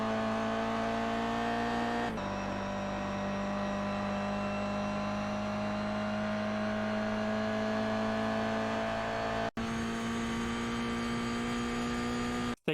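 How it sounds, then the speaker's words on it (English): A Toyota GR86 race car drives a lap of Summit Point Raceway in iRacing, its engine holding a steady sustained tone that shifts pitch at gear changes, with brief cuts near the end and no speech. "Just hold your wheel tight and push the car through the turns."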